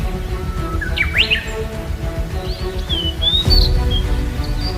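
Birds chirping and tweeting in short rising calls over a loud, steady low rumble, no voices present.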